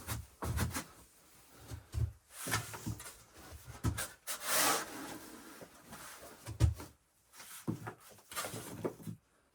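A shovel scrapes and bites into damp sandy soil near a snowy dugout, with a series of close, gritty scraping strokes and soft thuds at an irregular pace.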